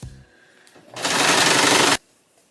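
A home sewing machine runs in one close, steady burst of about a second, with quiet room sound before and after.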